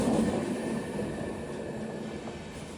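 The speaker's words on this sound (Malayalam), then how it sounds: "ഇത് നിലമ്പൂർ റോഡ് കോട്ടയം എക്സ്പ്രസ് ആണ്." The Nilambur Road–Kottayam Express rolls past with a steady, heavy rumble of wheels and carriages, loud at first and then holding level, with no talk.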